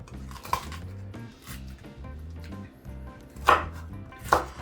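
A slightly dull kitchen knife chops eggplant and sweet pepper on a board, giving a few distinct sharp knocks among softer cuts and faint clinks, close and clear with no one talking.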